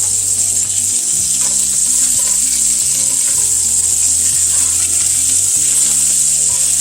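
Ahi tuna steaks sizzle loudly and steadily in a hot pan just after being flipped, a constant bright frying hiss with low hum underneath, no voices.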